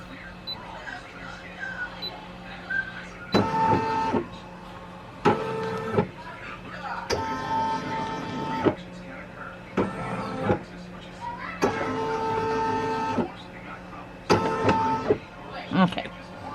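A Brother PE800 embroidery machine stitches on towels, repeated bursts of mechanical whirring and rapid needle chatter, starting and stopping in uneven runs, with faint background hum between them.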